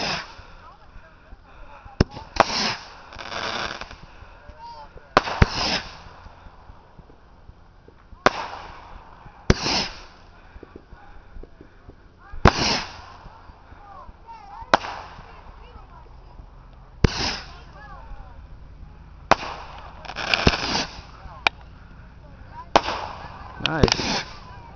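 Fireworks and firecrackers burst at close range during a 2010 backyard show, sharp loud bangs and crackling volleys popping irregularly every couple of seconds, with voices chatting between the blasts.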